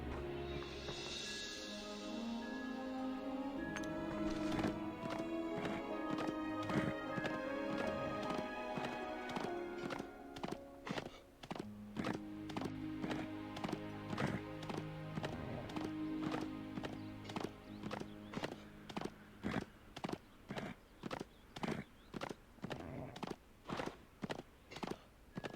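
Hooves of a ridden mount in the video game World of Kings, a rhythmic clip-clop that starts under a sustained musical background and becomes sharp, evenly spaced galloping beats that grow clearer toward the end.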